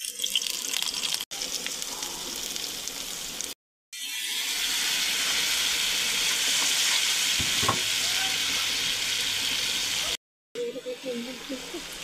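Spiced masala frying and sizzling in hot oil for dried chepa fish, a steady broadband hiss with brief stirring scrapes and two short gaps, close and fairly loud with no talk.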